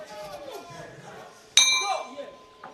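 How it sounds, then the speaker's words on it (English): Final bell at an amateur boxing bout at a world championship, one sharp metallic ring that fades slowly over murmuring arena sound. "And there goes the final bell."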